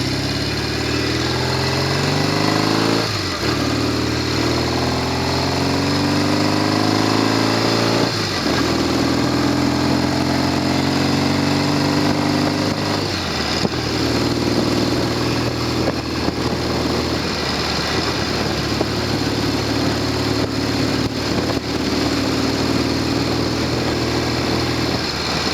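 A Norton Commando 750 twin with a tickover fault runs steadily, loud and close, with several brief blips where the revs rise and fall back to an uneven idle.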